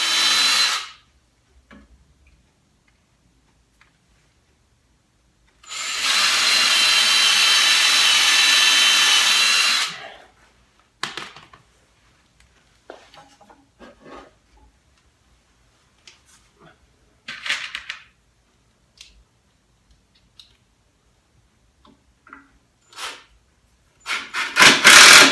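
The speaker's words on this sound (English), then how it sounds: "I'm going to pre-drill some holes" A loud, steady power drill whirs for about four seconds, drilling pilot holes in clamped wood, followed by scattered light clunks and taps, then another brief burst of drilling at the end.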